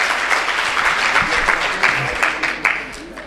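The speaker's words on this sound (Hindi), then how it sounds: "एक बार जोरदार तालियां आपने खुद के लिए बजा दी" An audience at a Hindi kavi sammelan comedy-poetry gathering claps steadily, a dense, even patter of many hands at moderate loudness filling the whole stretch.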